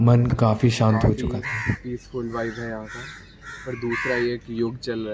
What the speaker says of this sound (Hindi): आपको बैकग्राउंड में चिड़ियों की आवाज़ सुनाई दे रही होगी।